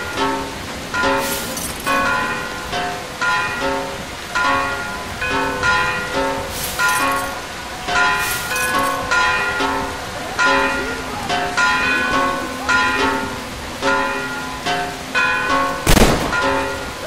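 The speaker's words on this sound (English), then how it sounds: "You just keep ringing those bells" Church bells in Metro Exodus toll again and again in a steady, resonant rhythm, layered with other game sounds and a sharp thump near the end.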